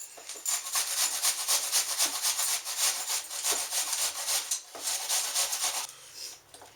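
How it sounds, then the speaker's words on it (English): Food being grated by hand on the holes of a kitchen grater for shepherd's pie makes quick, rhythmic, close rasping strokes that continue steadily before tapering off near the end. "And we're going to grate this."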